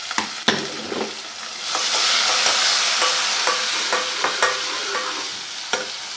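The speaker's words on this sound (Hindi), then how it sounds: "हल्का सा भून लेंगे तकरीबन 1 मिनट लहसुन अदरक की पेस्ट को चलाने के बाद" Garlic ginger paste frying with browned onions for kofta curry, stirred in a hot pan, a continuous sizzle with repeated close scraping and tapping strokes of the spoon.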